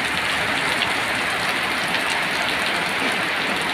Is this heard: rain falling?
yes